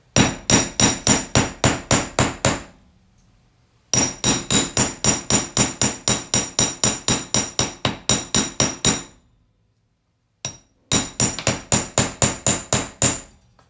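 Steady metal hammer blows flattening a clipped piece of jewelry wire, struck in three fast, even runs of sharp, loud, ringing taps with brief pauses between bursts, close up with no talking.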